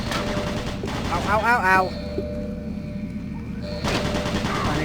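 Automated turret guns in Doom BFG Edition fire loud rapid bursts, broken by a short pause, while a man yelps in pain several times during the shooting.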